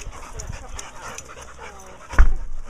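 Several dogs pant steadily indoors, close by, with a soft whimper and a short thump near the end.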